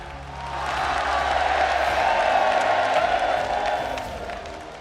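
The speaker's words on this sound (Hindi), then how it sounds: "जोरदार ताली बजा करके हम सब पूरा बागेश्वर परिवार स्वागत करें" A large crowd at a Bageshwar Dham gathering applauds loudly to welcome Prime Minister Modi, dense clapping and scattered cheers swelling to a sustained roar before easing off.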